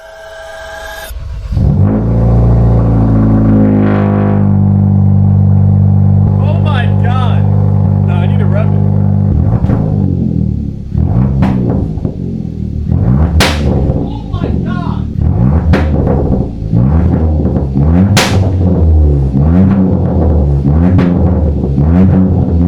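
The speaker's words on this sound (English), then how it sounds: "I wanna see how this actually sounds with just the Midpipe and not the axle back." A 2023 Kia Forte GT running an Xforce midpipe without the axle-back section. It starts up loudly, holds a low rumbling idle, then blips the throttle again and again in sharp revs, close to the mic and unbroken.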